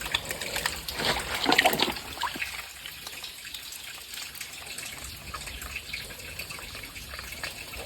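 Spring water runs weakly from a stream source in the countryside, a steady hissing trickle with a slightly stronger splash early on, then an even, modest flow.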